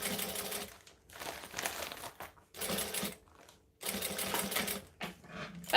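A sewing machine runs in short bursts while top stitching fabric, rapid clattering needle action stopping and restarting four or five times, close and fairly loud.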